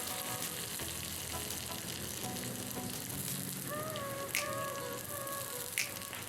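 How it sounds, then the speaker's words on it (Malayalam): Chopped ginger fries in a pan for a mixed vegetable thoran, making a soft, steady sizzle with a few scraping stirs. Faint high whistling tones drift in over the second half. "ഇനി നമുക്ക് കൊത്തി അരിഞ്ഞിരിക്കുന്ന ഇഞ്ചി ചേർത്ത് കൊടുക്കാം. ഇഞ്ചി ഒന്ന് നന്നായി ഇളക്കി കൊടുത്താൽ"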